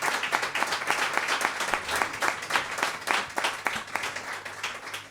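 A concert audience claps for a singer, dense sustained applause from a sizeable crowd that holds steady throughout with slight swells.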